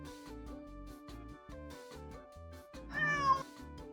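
A kitten gives short meow-like calls that sound like a greeting, then a louder, rising cry near the end, close and clear against quiet music.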